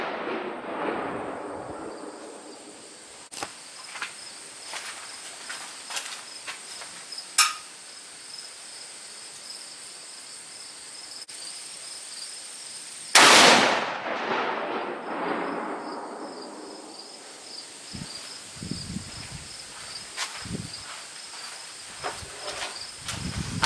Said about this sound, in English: he's going to shoot it once more and make sure it's still on.